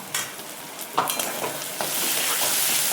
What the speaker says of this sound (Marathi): हळद घातल्यावर आणखीनच कलर येतो आणि छान असं मिक्स करायचं. पहा, मस्त परतून घ्यायचं.